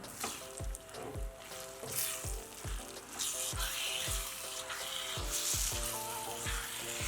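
Grated raw mango roasts and sizzles softly in a pan over a low gas flame, with a steady rhythm of spatula scrapes stirring it every half second or so.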